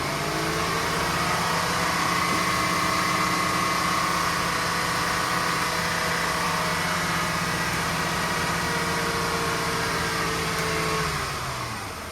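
Volvo 240 engine with automatic transmission, fitted with EGR and PCV systems, revving steadily to about 3,500 RPM and holding there with a loud, constant drone for around eleven seconds before easing off at the end.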